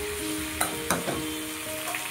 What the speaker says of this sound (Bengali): দেখো আমার কপিগুলো আমার লাল লাল করে ভাজা হয়ে গেছে